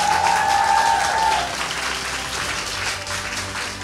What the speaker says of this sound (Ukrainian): ми вам будемо аплодувати